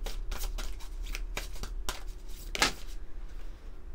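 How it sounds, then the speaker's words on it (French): A deck of lunology oracle cards is shuffled in quick, crisp riffling bursts, with one louder flick near the end, close up and alone with no talking. "On va prendre quelques cartes de l'oracle de la lunologie."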